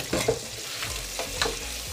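Prawns with vegetables sautéing in a pot for a chickpea and prawn stew, a steady close sizzle overlaid by a few scraping strokes of a spoon stirring the mixture, with no talk.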